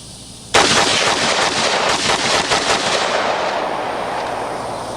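A handgun is emptied at bowling pins on a shooting range: one sharp report opens a quick string of rapid shots with ringing echoes that trail off and fade over several seconds, no voices.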